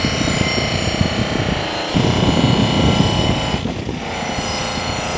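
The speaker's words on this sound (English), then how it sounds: "Again, this buff is rated at 2200 RPMs for this procedure." Buffing wheel spinning at 2200 RPM polishing an aluminum baseball bat, a loud continuous whirring drone with a rough grinding rumble as the bat presses against it, close by and without talk.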